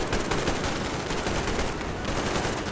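Dense, rapid automatic gunfire in the video game Metro Exodus crackles continuously and loudly, a sustained burst of shots with no pauses.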